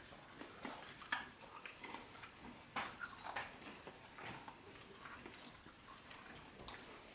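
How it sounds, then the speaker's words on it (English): Several people chewing homemade flourless brownies at a family tasting, soft irregular munching and mouth sounds scattered in the background at low level, with no clear talk. "I hear a lot of background chewing."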